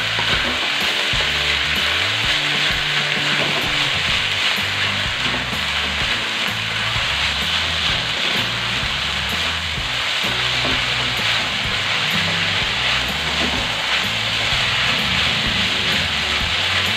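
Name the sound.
stir-frying nasi goreng mawut with sweet soy sauce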